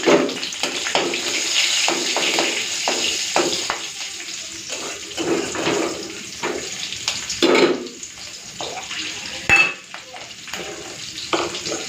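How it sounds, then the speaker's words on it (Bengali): Nigella seeds and slit green chillies fry in hot oil in a home kitchen while fish curry is being made, a steady close sizzle with scattered crackles and stirring knocks, no voices. "তো ওই তেলের মধ্যে দিয়ে দিচ্ছি একটুখানি কালো জিরে, আর দিয়ে দেবো চেরা কাঁচা লঙ্কা।"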